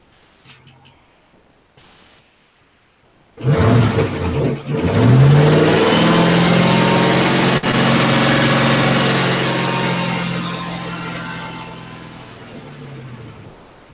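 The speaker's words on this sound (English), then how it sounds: "Get some heat in the old engine." An old car's engine, cold after sitting unused and with a ticking fault, cranks and catches at once, then holds a loud, steady idle with some revving before easing down slightly toward the end.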